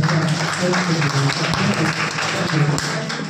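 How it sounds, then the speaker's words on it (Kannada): An audience at a government school's social audit meeting applauds in a dense, continuous patter of clapping, with a speaker's voice carrying over it throughout. "ಅವ್ರನ್ನ ಈ ಚಪ್ಪಾಳೆ ಮುಖಾಂತರ ಧನ್ಯವಾದಗಳು"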